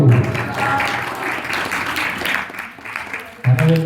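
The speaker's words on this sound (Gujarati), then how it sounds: "તાળી પાડો" An audience at a competition applauds briefly, a moderate wash of clapping mixed with voices, with louder talk cutting in near the end.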